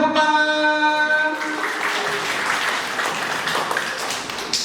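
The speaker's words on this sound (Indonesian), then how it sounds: "Kita beri tepuk tangan." A morning audience at an Indonesian community-service program event bursts into applause that rises after a sustained tonal sound fades, then keeps up a dense, even clapping to the end without any talk.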